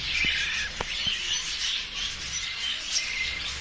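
Pet birds and young chicks chirp and tweet continuously at moderate volume, a dense high twittering chorus with a few brief louder calls near the start.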